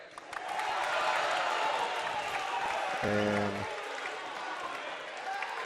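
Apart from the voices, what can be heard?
Independence basketball crowd reacting to a call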